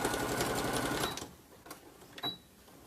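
Sewing machine stitching a seam on a zipper tote, a loud steady mechanical whir for about a second before it stops, followed by faint clicks and a brief sharp snip as the thread cutter fires.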